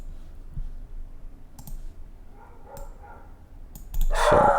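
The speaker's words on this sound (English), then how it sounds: "So sorry for that. Sorry for my dog." A female pet dog barks indoors, a few faint yips and clicks building to one loud, close bark at the end, with no talking.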